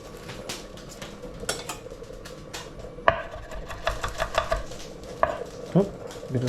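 Garlic being chopped on a board with a knife, a run of sharp, irregular close taps and knocks, some louder strikes spaced through it, with no talking.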